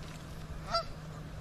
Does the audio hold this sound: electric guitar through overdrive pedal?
no